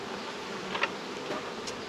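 Bees at an open beehive humming in a faint, continuous drone, with a few brief sharper buzzes as individual insects pass close.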